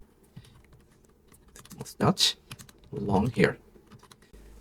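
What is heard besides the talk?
typing a negative prompt on a computer keyboard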